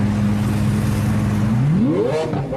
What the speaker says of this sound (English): This guy was trying to show off his new Lamborghini he just got.